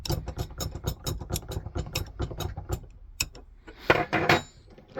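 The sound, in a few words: two-stroke engine crankshaft rotated by hand, compressing solder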